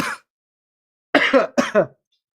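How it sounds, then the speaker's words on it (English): A short cough, then a pause, followed by two more harsh coughs close to the microphone, with silence around them. "That was the first time I coughed"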